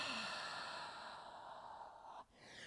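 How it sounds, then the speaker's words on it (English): A long, steady breath pushed out through the mouth during a Pilates floor exercise, a continuous airy exhale close to the mic that fades out near the end. "Exhale through the mouth."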